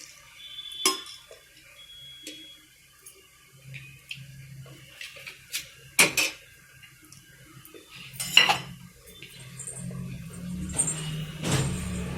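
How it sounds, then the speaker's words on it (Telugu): Sharp metallic clanks of a lid and utensils against a pot of cooking prawn biryani, a few separate knocks and scrapes spaced apart over a soft low simmer, close by. "ఇలా మూత పెట్టేస్తే ఒక 10 minutesలో కుక్ అయిపోతుంది."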